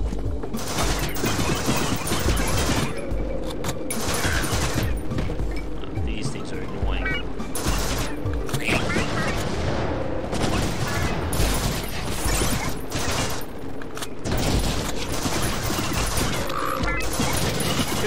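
Watermelon-shaped AK fired in the colorful roguelike shooter Juicy Realm: dense, continuous rapid gunfire that runs unbroken for the whole stretch, loud and busy, with other game effects layered underneath.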